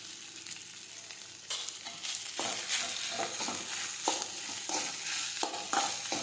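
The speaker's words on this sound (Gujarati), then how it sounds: "હવે આપણે આ રીતે સાતળી લઈશું।" Boiled rice with turmeric sautéed in a hot pan, a continuous close sizzle broken by repeated scraping strokes of a spatula that come in irregular bursts, with no speech.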